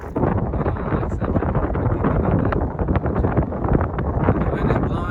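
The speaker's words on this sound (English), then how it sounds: "The wind is blowing. I know you can hear it in the video." Strong wind buffeting a microphone on a hilltop about 2,000 feet up, a loud, dense, continuous roar with gusty swells and no pauses, filling the whole clip.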